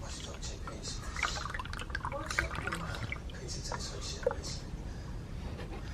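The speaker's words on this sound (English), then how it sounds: "we are going to put 2 bottles of coolant in, fill them up with water" Coolant and water pour and trickle into a car's cooling system, a continuous liquid splashing and dripping heard close up under a busy background.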